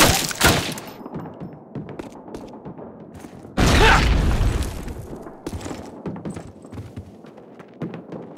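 Grenade blast in the Call of Duty war game, a sudden loud deep boom midway that rolls and fades, set among scattered gunfire, clatter and battle noise before and after.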